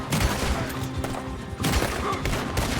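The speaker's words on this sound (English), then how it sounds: "Shoot them then." Rapid bursts of gunfire from a video game shootout rattle close and loud in a dense, continuous volley with a few heavier booms.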